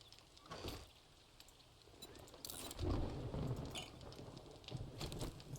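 Thunderstorm in a video game: steady rain hiss with low rumbling thunder swelling around the middle and a few sharper bursts, moderately loud and continuous, no talk.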